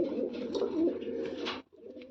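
A white-eyed pigeon with purple feet coos in a steady, close, moderately loud run of low, rolling notes that breaks off briefly near the end before a softer coo resumes.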